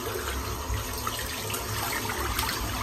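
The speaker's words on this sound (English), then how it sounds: "Just rinsing the brush out now, just getting all this head hair out." A shaving brush is rinsed under a running tap to wash out head hair, giving a steady, close splashing and gurgling stream of water that continues without pause.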